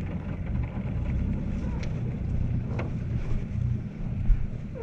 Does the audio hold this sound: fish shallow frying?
no